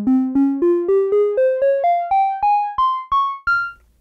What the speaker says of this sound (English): let's listen to the Japanese scale, giving us different intervals between the notes